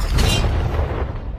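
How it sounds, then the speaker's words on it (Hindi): A tank cannon fires a shell outdoors, one loud, deep booming blast that rolls away quickly, heard alone without talk. "पहला शॉट फायर करो।"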